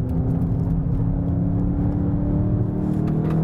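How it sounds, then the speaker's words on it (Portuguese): Volkswagen Jetta GLI sedan engine pulling hard on a fast lap at Interlagos, a steady loud close drone with rising revs and harmonic whine throughout, no talk. "Abrindo a volta rápida com o Jetta GLI Interlagos"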